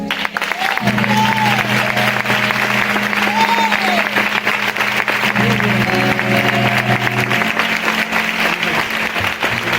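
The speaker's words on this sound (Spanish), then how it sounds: "¿Qué tal que simbólicamente a Dios le damos un fuerte aplauso?" A church congregation applauds loudly in a symbolic ovation to God, sustained thick clapping throughout, with a voice or musical tones rising briefly over it.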